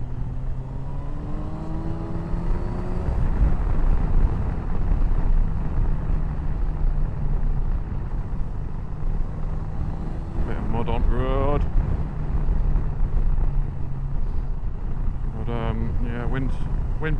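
Kawasaki Versys 1000 motorcycle under way, with steady wind rush buffeting the microphone and a low engine drone throughout, rising tone early on and brief voice-like bursts near the end.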